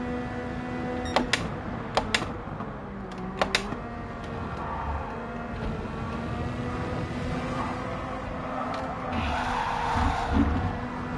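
Tyres skid and squeal under a handbrake turn in the racing game Gran Turismo 7, a steady smeared screech over engine drone with a few sharp clicks early and a louder scrub near the end.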